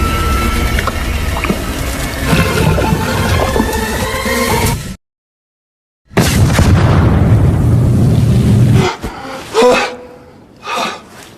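A gas explosion tears through a sewer manhole after a match is lit, a scene from the 2023 film Manhole. After a stretch of busy sound and a moment of dead silence, a loud, full-bodied blast erupts and rumbles on, followed by fainter scattered bursts.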